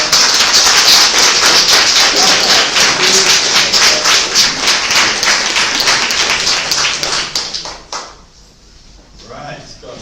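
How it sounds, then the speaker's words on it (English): An audience at an author talk event claps in a dense, loud round of applause that holds steady for about seven seconds, then thins out and fades, with a voice speaking as it dies down. "Can we have a round of applause?"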